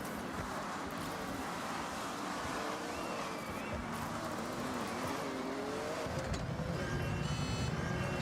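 A Lancia race car engine in a racing video game drones steadily at high revs for the whole stretch, loud and continuous, with a brief tonal rise near the end and no talk over it.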